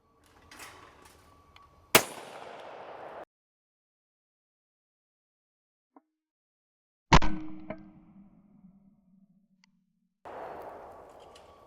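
A CZ All American shotgun fires twice at sporting clays outdoors, each blast loud and sharp with a ringing tail, separated by several seconds of near silence and some faint background noise.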